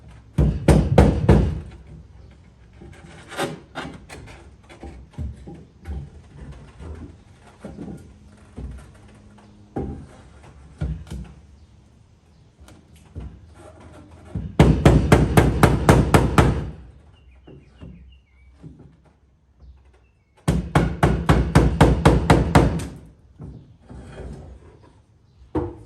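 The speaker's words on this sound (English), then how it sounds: "I'm extremely happy with hammering it out" Bursts of rapid metal hammer blows on a crashed Nissan S13 drift car's body panel, loud clustered strikes separated by pauses and a few lighter taps.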